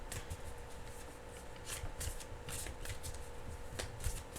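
Tarot cards are being shuffled in close, quiet bursts of papery riffling and light slaps, repeating in an uneven rhythm across the whole stretch.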